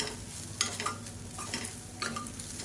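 Cooked, salted basmati rice is stirred into a fried mixture in a pan, producing soft repeated scraping strokes over a faint, low sizzle, with no voices.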